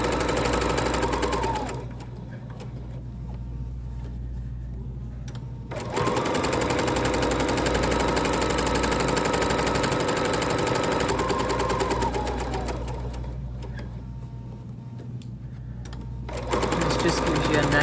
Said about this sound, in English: I will top stitch 1/8 of an inch around the entire piece